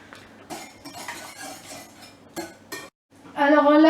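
Sugar stirred into a bowl for an apple and rhubarb meringue tart, with scattered clinks and scrapes of utensil against bowl, a brief silence, then a sustained tonal scraping near the end.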